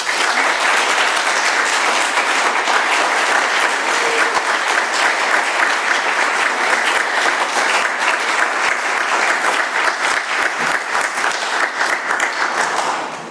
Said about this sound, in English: Please give Chelsea another round of applause.